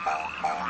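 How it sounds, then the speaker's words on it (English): Frogs croak in a riddle video game, a short, steady, buzzing croak that fills the moment at moderate loudness with no voices over it. "the room has frogs. Little spotted, orange ones."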